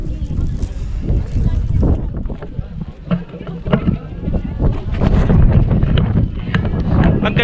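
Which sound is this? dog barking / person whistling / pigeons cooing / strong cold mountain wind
strong cold mountain wind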